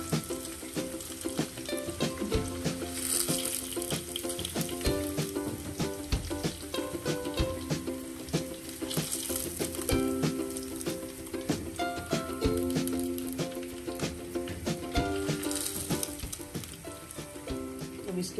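Chicken pieces frying in hot oil in a pan for spicy honey garlic chicken, giving a steady, dense sizzle that runs unbroken throughout with no talk over it.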